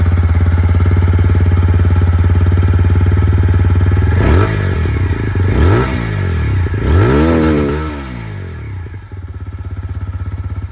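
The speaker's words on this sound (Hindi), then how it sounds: "जो एग्जॉस्ट साउंड है यहाँ पर बुलबअप एग्जॉस्ट," A 160cc motorcycle with a bull-pup exhaust idles with a steady low throb, then gets three sharp revs in a row before settling back to idle, recorded close with no talking.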